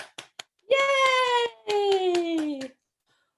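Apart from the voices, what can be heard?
hand clapping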